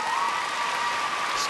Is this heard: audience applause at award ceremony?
yes